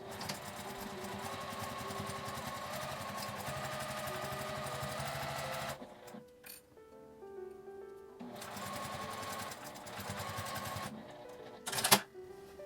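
A sewing machine runs in two long, steady bursts of rapid, even stitching while it sews the edge of a small fabric pouch. Brief pauses and a sharp click come between the bursts. No one talks.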